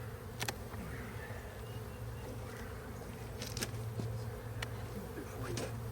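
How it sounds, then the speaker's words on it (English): Honeybees buzz thickly and steadily inside an opened hive full of comb and honey during a hive split, a dense close drone with a few sharp clicks and taps from handling the frames. "there's a lot of bees in this"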